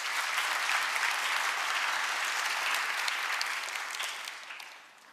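Sustained applause from a large audience at a Korean government policy presentation event, a dense loud wash of clapping that holds steady and then tapers off toward the end.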